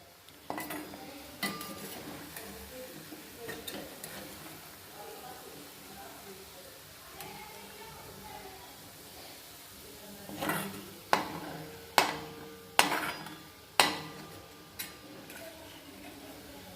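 Fresh turmeric roasted in ghee is spooned out of a pan into a bowl, with soft scraping and stirring that build into a series of sharp metallic clinks of spoon on vessel toward the end.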